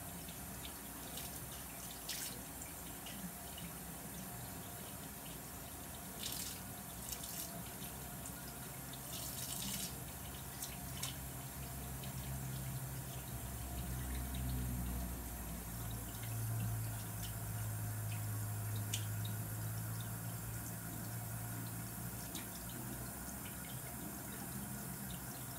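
Tap water runs steadily into a sink, the flow shifting and deepening partway through as the stream adjusts, with faint clinks over the continuous splash.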